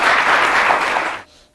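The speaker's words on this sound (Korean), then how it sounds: "큰 박수로 좀 맞아주십시오." Loud, close audience applause welcoming two guests at a Gunsan cultural city forum, a full dense clapping wash that fades out quickly near the end.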